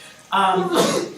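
One person sneezes during a school board meeting: a voiced, rising intake gives way to a loud hissing burst, close to the microphone in an indoor room.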